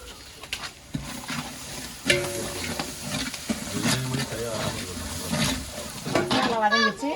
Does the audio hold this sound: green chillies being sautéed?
yes